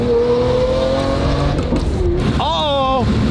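A Ferrari V12 GT supercar pulls away, its loud engine droning steadily and rising in pitch near the end, close by, with voices talking over it.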